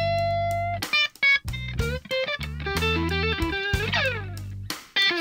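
Electric guitar notes and chords play over a backing track with bass and drums, with no talking.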